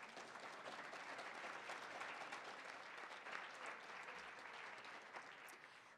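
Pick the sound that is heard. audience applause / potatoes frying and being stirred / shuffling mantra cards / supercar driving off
audience applause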